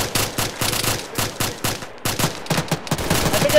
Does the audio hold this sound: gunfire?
yes